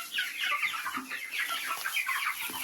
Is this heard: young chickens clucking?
yes